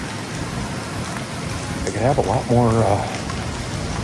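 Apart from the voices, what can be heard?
rain falling on a parked van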